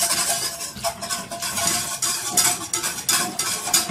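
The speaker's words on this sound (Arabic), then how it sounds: "نقلب كده لغايه ما ياخد القوام اللي انا عايزاه" Béchamel sauce being stirred in a pan, a steady scraping and clinking of a utensil against the pan with soft bubbling, close and continuous with repeated stroke bursts.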